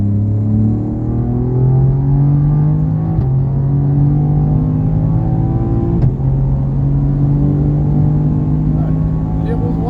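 A car on a race track at Mireval, its engine note climbing steadily in pitch as it accelerates through the gears, loud and close throughout, with a brief shift break midway.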